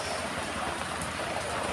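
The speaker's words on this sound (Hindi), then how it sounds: "ओए, बारिश हो रही, बारिश।" Steady rain falls during a sudden downpour outside at a fair, giving a continuous soft hiss with no voices.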